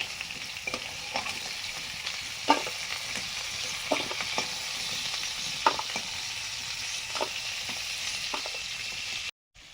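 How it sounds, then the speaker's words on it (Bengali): Steady crackling sizzle of potatoes frying in a pan, with occasional clicks and scrapes of stirring; close and continuous, no voices, cutting off at the end. "কাঁকড়ার ঝালে দেওয়ার জন্য আলুগুলো হালকা ভেজে নিচ্ছি।"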